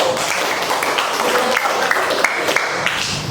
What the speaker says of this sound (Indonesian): Baik, tepuk tangan dulu untuk